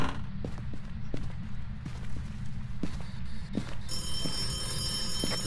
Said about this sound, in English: It's fucking with a phone.